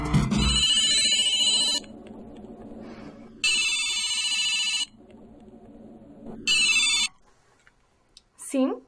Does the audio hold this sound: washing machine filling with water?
no